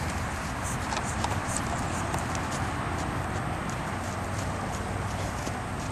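A horse's hooves clop steadily on the soft ground of a round pen in an even rhythm, partly buried under a constant loud wind-like roar.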